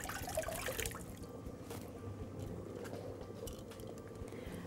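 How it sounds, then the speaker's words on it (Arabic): Peaches rinsed under running water from a tap, a steady close trickle and splash that stays even throughout with no talking. "اعذروني نروح نغسل الخوخ اللي وقع مننا ده على الطاولة ونرجع"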